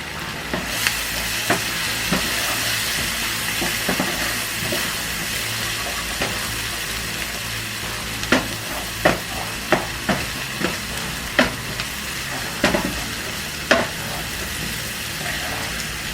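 Onions sizzle and fry steadily in a pan on a home stove, a constant hiss broken by sharp spatula scrapes and taps against the pan, close and fairly loud with no talking.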